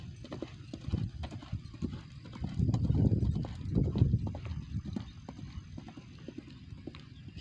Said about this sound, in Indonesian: ada 4 ekor kuda dan di sana satu ekor kuda juga sedang berlari-lari kecil